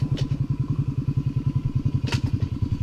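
Suzuki DRZ400SM (2014) motorcycle that won't start, being push-started: a steady, rapid low thumping chug of the single-cylinder engine turning over, with a couple of brief clattery knocks, close and fairly loud.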